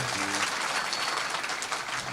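An audience at a religious katha gathering applauds in a dense, continuous roar of clapping that holds steady and loud throughout.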